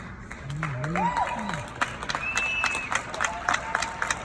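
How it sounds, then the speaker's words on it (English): An audience at a keynote talk claps steadily for about four seconds, with scattered voices and a whoop or two rising over the applause. "That 87 people were clapping."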